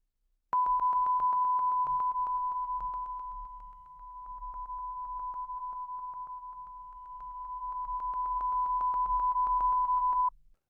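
A steady pure test tone sounds continuously, its level dipping gradually in the middle as the microphone's angle to the source changes, before swelling back up to full loudness, then cutting off.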